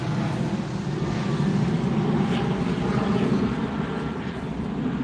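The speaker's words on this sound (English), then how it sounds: "A lot of British Airways are taking off from here." A British Airways airliner takes off at Heathrow Airport, a steady, broad low roar of jet engines that holds evenly throughout, heard from a distance with no voices.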